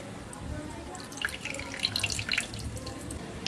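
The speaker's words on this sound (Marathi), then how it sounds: "चांगलं भिजल्यावर आता यातील पाणी काढून घ्यायचं आहे" Water trickles and drips as it is poured off soaked rice and sago for a coconut fasting dosa, a steady faint splashing with a few brighter drips throughout.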